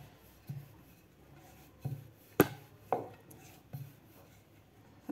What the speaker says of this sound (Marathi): व्यवस्थित आपल्याला याची पोळी लाटायची आहे